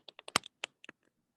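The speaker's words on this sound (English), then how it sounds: "He was typing on his computer." About eight crisp keystrokes on a computer keyboard, close and clear, tapped in a quick uneven burst within a second and followed by silence.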